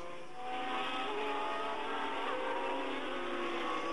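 Jabouille's Formula One race car at the 1979 French Grand Prix screams past, a high, buzzing engine note rising as it approaches and sustaining loudly with no talk over it.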